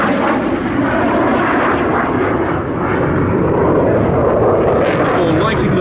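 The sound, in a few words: Eurofighter Typhoon jet with afterburners at air show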